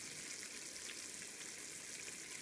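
Sugar syrup for honey bee fondant boils in a pot with a steady, faint bubbling hiss, no voices present.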